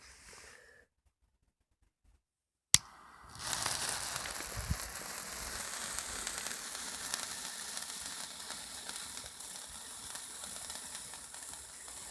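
A cake fountain firework with no fuse delay ignites with a sharp pop after a short silence, then roars into a continuous loud hissing, crackling spray that holds steady for the rest of the clip.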